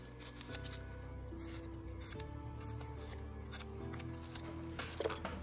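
Pencil pressed and scraped into foam to carve stone shapes for a tabletop dungeon model, small scratchy strokes and ticks over steady background music.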